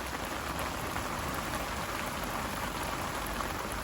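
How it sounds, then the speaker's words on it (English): Steady, even rainfall patters continuously on a surface, a dense hiss with no voices or breaks. "as soon as all this rain stops"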